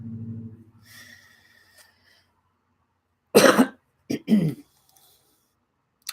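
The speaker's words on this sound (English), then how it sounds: "I still have a bit of a cough" A few sharp, close coughs in quick succession, one loud burst followed by two shorter ones, after a low hum and quiet room sounds, with no talking.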